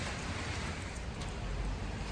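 Steady rain falls outside on a Tuesday morning, an even, unbroken hiss of moderate loudness with no voices.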